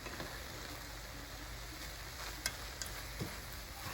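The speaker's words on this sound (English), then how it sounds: "I'm just frying it up" Quiet, steady sizzle of chicken, corn and onion frying in a pan, with a few small ticks and clinks scattered through.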